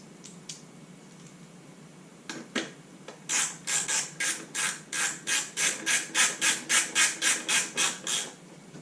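A 5/16 socket ratchet clicks rapidly in a long, even run of about fifteen close, crisp strokes while tightening muffler bolts on a Craftsman push mower, after a few scattered clanks and taps.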